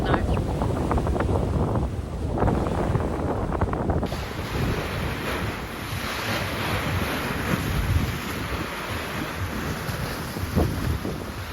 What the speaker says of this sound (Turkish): rüzgar çıktı, dalga çıktı.